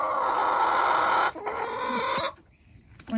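A rescued chicken, struggling to lay an egg while molting, gives a loud, drawn-out clucking squawk up close, then a softer broken call before falling quiet, with a brief rustle at the end.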